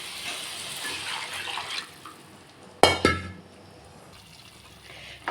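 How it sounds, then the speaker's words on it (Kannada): Water poured into a frying pan of vangi bath, a soft rush of liquid followed by two sharp clanks of utensils against the pan, near and moderately loud, then quiet. "ಇದು ನೀಟಾಗಿ ಫ್ರೈ ಆದಮೇಲೆ ನೀರು ಹಾಕ್ಬಿಡೋಣ"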